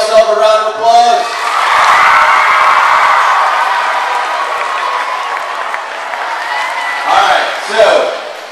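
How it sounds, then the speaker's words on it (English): Middle school students at a pep rally in a gym clap, cheer and whoop loudly together, a dense roar that swells and then holds steady, with a few shouts rising near the end. "give yourself a round of applause"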